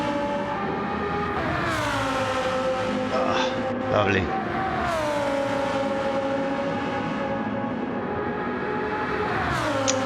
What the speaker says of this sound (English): Let's go back to that beautiful sound of the Lamborghini Huracan.